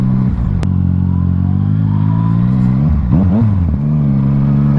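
A Yamaha XSR900 motorcycle engine runs loud and close on a test ride, a steady throaty drone whose pitch dips and rises briefly as the rider eases and rolls the throttle.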